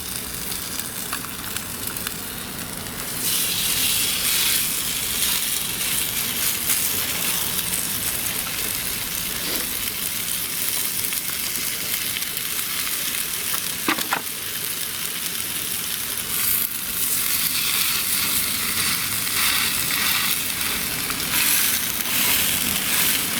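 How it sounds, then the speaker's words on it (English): Pork and apple burgers fry in a pan outdoors beside onions, giving a steady, loud broadband sizzle that starts up after a few seconds and holds on with occasional faint crackles. "make room for my Posh burgers, and let's get them into the frying pan"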